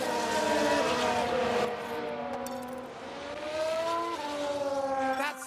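A race car in F1 Manager 22 at the São Paulo Grand Prix runs wide, its engine note loud and close, rising and falling in pitch through the corner with a brief shift near the end, heard alone.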